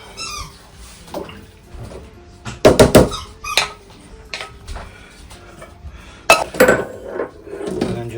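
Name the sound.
pressing raspberry coulis mixture through a metal sieve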